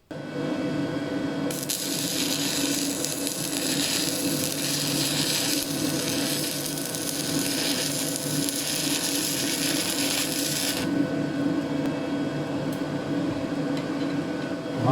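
Stick welding with a 2.5 mm electrode on a GYS Eazymig 180XL-4 welder: a steady, loud crackling and sizzling arc runs for about nine seconds, with a low hum before and after and no talking.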